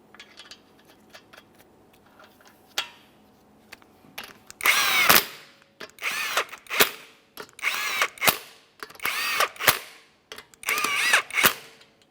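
Power impact tool snugging 19mm lug nuts onto a Subaru Outback front wheel: a string of short, loud buzzing bursts with brief gaps between them, each burst ending in a rattling hammer, close by in a quiet garage.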